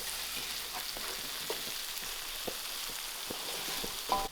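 Seafood paella being stirred in a pan, with a steady quiet sizzle under repeated soft scraping and clicking strokes of a utensil.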